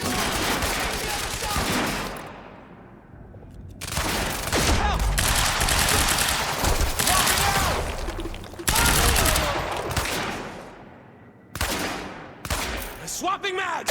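Intense gunfire fills an industrial-zone firefight in the video game Quantum Break, with loud sustained volleys and rapid automatic bursts separated by brief near-silent gaps, ending in scattered sharper shots.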